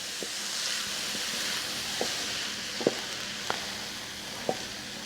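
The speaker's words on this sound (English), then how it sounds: "my onions and my mushrooms are now nice and brown" Onions and mushrooms fry in a pan with a soft, steady sizzle close by, broken by a few faint utensil taps. No one speaks.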